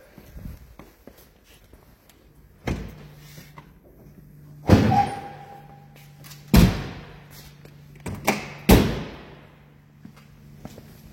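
Bonnet of a 1960 MG A 1600 being opened, a series of sharp metallic clunks and thumps with some clatter, spaced over several seconds and fairly close, with a faint low hum beneath and no talk.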